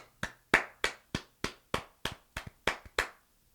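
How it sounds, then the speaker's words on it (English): About a dozen sharp, single hand claps at an uneven pace, close and dry, with short silences between them and no talking. "What is wrong with that clap?"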